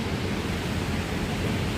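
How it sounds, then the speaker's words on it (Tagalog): Heavy rain falling at a rooftop garden, a dense, steady hiss and patter with no pauses. "Malakas ang ulan."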